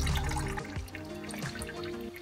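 Water dripping and trickling from an IMT tractor water pump as draining nearly stops, with irregular close drips and small splashes over a quieter background, no speech.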